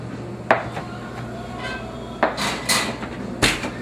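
A baking dish of eggplant rollatini topped with pesto clatters onto an oven rack in a kitchen, a few sharp metallic knocks and scrapes spaced over several seconds, fairly close and alone without talk.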